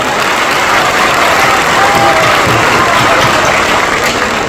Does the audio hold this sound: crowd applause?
yes